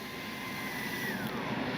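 A Freewing F-18 90mm EDF RC jet flies overhead, giving a steady, loud ducted-fan whine and rushing hiss with a pitch that slowly glides downward as it passes.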